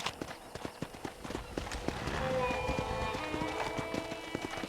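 Horse hooves clip-clop in a steady running rhythm in the Red Dead Redemption video game, close and clear over ranch ambience and light background sound.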